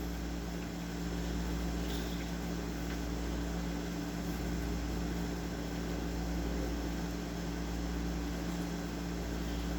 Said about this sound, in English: If you hear the AC in the background,